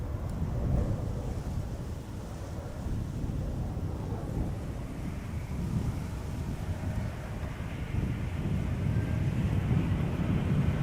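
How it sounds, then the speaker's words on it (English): A Transavia Boeing 737 in from Reykjavik passes by at Amsterdam Schiphol Airport. Its engine roar comes from a distance as a steady low rumble, mixed with wind buffeting the microphone, and it holds for the whole stretch. "737 Transavia, arriving from Reykjavik,"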